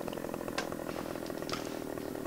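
A Husqvarna chainsaw running steadily in a farming simulator game, a continuous buzzing engine drone with a couple of brief higher-pitched revs, no talking.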